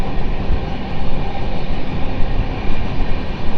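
A train in motion gives a loud, steady, close rumble and rattle that hardly varies, on an Indian railway line near Duggirala with the Howrah Mail just gone by.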